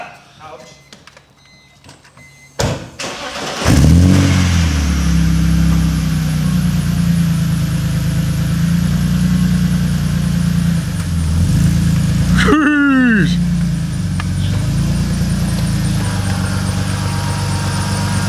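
A BMW E46 drift car sets off after competition prep: a steady, loud mid-pitched engine drone runs from about four seconds on, with a sharp squeal or whine partway through and people talking over it.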